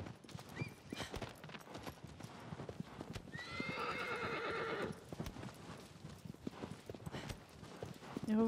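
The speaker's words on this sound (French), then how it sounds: "Un cheval tout terrain, là." Horse hooves clip-clop at a steady gallop in Shadow of the Colossus on PS4, broken midway by a loud, drawn-out whinny lasting about a second and a half. A faint background voice talks over the hoofbeats.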